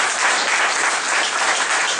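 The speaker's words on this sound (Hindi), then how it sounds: "तालियां बजाइए।" Seminar audience in a hall breaks into dense, loud, sustained applause, many hands clapping steadily throughout with no voices on top.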